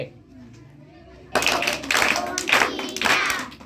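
Children clap their hands together in unison to count out a number in a classroom math lesson, a burst of loud, slightly ragged claps starting after a quiet moment, with voices mixed in.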